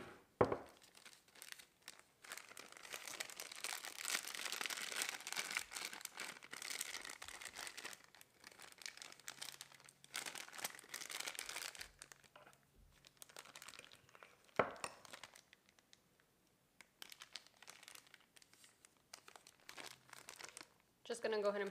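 A small Ziploc plastic bag holding melted chocolate crinkles and rustles in bursts at close range, with pauses between handlings and someone talking in places.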